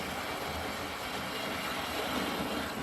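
Hornby model railway train hauling Hornby Railroad BR Mark 1 coaches behind an LNER Hunt Class locomotive, giving a steady, even running rumble and hiss with no distinct clicks, close by and continuous throughout.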